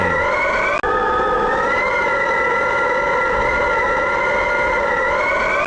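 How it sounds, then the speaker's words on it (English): Emergency vehicle sirens wail continuously in a flooded Chinese city during Typhoon Tapah, a loud steady rising-and-falling tone filling the whole stretch after a brief cut near the start, with no voices. "now only sirens and pounding"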